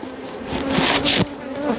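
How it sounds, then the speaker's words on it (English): Agitated honey bees swarm around a hive that has just been planed, a dense close buzzing that drones steadily with rising and falling swells as individual bees pass near. "planing bits off a hive full of bees is a great way to work them up"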